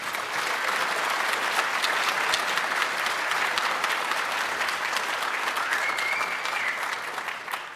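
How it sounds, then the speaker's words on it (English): A conference audience applauds a morning speaker at a climate convention, sustained dense clapping from many hands at a constant level with no speech over it. "Give him a round of applause"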